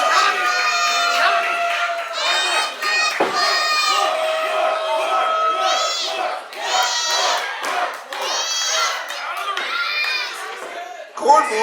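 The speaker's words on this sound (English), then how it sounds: "he's still getting some cheers from the Iowa City crowd after the popcorn shot" An Iowa City crowd at an indie wrestling show cheers and shouts, loud roaring waves that swell and dip repeatedly, with a commentator talking over the noise.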